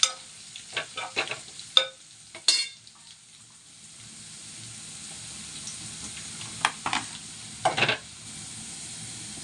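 Onions fry with ground paste in a pan, a soft continuous sizzle under sharp clinks of a spoon stirring, with a cluster of strokes at the start and more near the end, close by.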